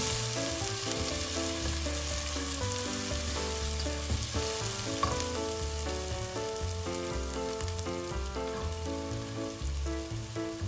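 Onions sautéing in a pan for Tamil-style crab curry (nandu kulambu), a loud, continuous close sizzle with no talking, while music plays in the background.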